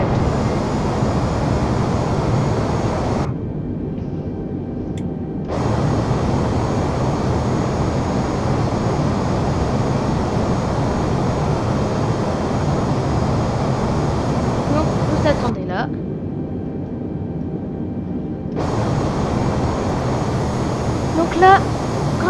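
Airbus A320neo engines roaring in Microsoft Flight Simulator 2020 during takeoff, a steady broadband rumble that cuts out briefly twice, with someone speaking French over it.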